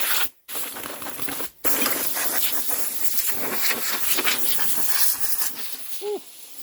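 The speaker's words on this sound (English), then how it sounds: "old compressor is a good tool" Old air compressor blowing air while working on a John Deere X120 mower deck, a loud continuous close hiss with two short cutoffs near the start, fading toward the end.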